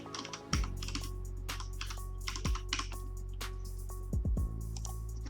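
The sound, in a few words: typing on a computer keyboard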